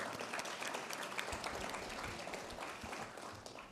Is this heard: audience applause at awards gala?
yes